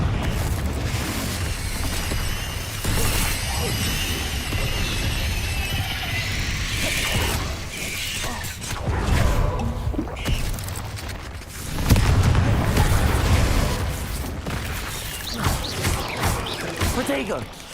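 Confringo spell blasts explode during a Hogwarts Legacy duel, with repeated booms and crashing impacts rising and falling amid busy combat noise, while a player talks loudly over much of the action.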